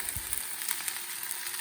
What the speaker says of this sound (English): I've never in my life cooked chicken this way over a pan